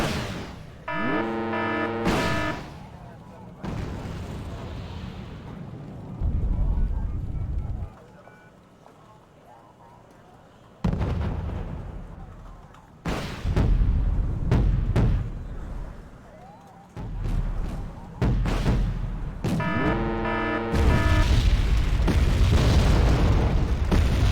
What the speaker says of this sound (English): here come the jets. They're gonna shoot.